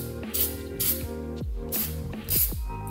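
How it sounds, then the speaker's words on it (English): Short hissing bursts of an aerosol can of flat black enamel spray paint, four quick sprays in a row, mixed with clicks and low background noise. "I'm going to use some flat black enamel paint."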